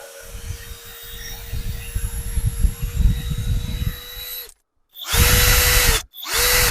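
A Grosser GCD 161KBT cordless drill-driver unscrewing, a loud close whining motor run that stops briefly, then two more short bursts.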